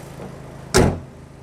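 Hood of a 2012 Opel Astra OPC slammed shut once, a single loud, close thud with a short metallic ring standing out against faint background hum.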